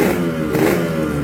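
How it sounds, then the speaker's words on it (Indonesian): A Yamaha RX King motorcycle with a dusty, muffled exhaust revs steadily at close range, a rough mid-pitched two-stroke engine drone rising and falling slightly, with no talking. "Nah, sekali pancal juga motornya hidup."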